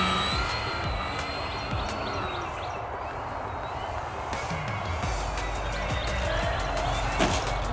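An Arrows Bigfoot bush plane in a flight game rolls over rough terrain, its landing gear clattering and banging in irregular knocks over a steady engine drone, with one sharper thump near the end.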